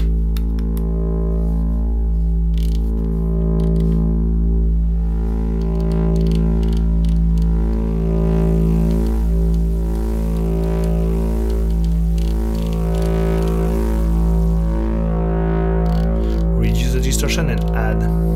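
Plinky wavetable synth playing a sustained, buzzy tone with added distortion, steady harmonic drone with shifting pitch steps, loud and continuous with no talk.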